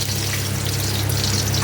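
Ginger and garlic fry in a hot pan with a steady, close, continuous sizzle that holds evenly throughout.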